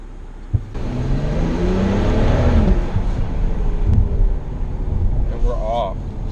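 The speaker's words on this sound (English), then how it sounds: "Let's get in and drive it, see how it drives" A 2018 BMW X6 pulls away and drives, its steady mid-pitched engine drone rising under a running voice, with some wind buffeting at the microphone.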